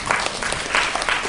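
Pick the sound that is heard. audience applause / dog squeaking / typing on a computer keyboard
audience applause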